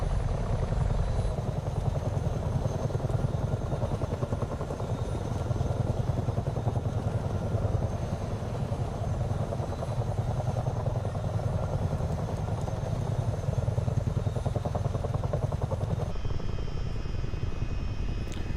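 A Chinook twin-rotor helicopter in Microsoft Flight Simulator 2024 drones continuously at half throttle, a dense low rotor thrum and engine whine holding steady without letup and no talking.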